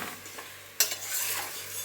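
Chicken sizzles faintly in a pan while a utensil scrapes and stirs it, with one sharp stirring clatter midway, all quiet and close without talk.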